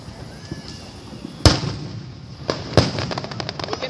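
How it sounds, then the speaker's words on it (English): Homemade fireworks burst outdoors on the Fourth of July: a sharp loud bang, then a second, followed by a string of smaller crackling pops, with faint voices in the background. "But it's homemade fireworks."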